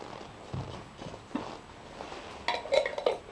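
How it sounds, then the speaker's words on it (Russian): Small metal pot handled in a workshop before being placed in a fume hood, with soft knocks at first and then brighter metallic clinks and rattles as it is set down, fairly close and quiet. "эту кастрюльку сейчас сразу в вытяжной шкаф закину"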